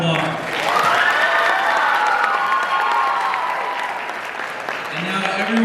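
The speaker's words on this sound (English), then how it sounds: "Let's give one more round of applause." Audience applause and cheering at a Black History Month program after a song, a full crowd clapping loudly and steadily with whoops mixed in, swelling then easing before voices rise at the end.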